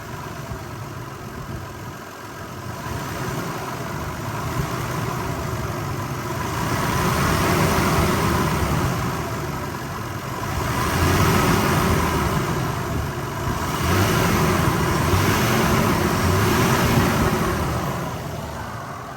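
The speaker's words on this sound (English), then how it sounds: "So as you can see, the engine is running pretty smoothly" A 30-year-old Toyota Land Cruiser 80 Series engine idles steadily, then is revved a few times in slow swells before settling back, a continuous close rumble with no talk.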